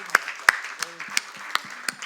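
A church congregation at a Mother's Day worship service claps in a sparse, fairly regular rhythm of distinct hand claps about every third of a second, with faint murmuring underneath.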